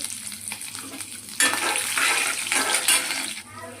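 Dry red chillies, cashews and green chillies go into hot oil in a pan, raising a bright crackling sizzle that jumps loudly about halfway through, with stirring clatter and no talk.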